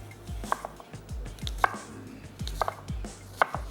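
A knife chops nuts on a cutting board for Kashmiri pulao, giving a series of close, crisp, irregular chops with short gaps and no talk.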